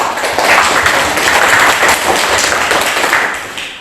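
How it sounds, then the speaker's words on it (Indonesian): A classroom full of students applauding a group's presentation, a loud, dense burst of many hands clapping together that holds for a few seconds and then slowly tapers off. "kita kasih aplaus kelompok 2"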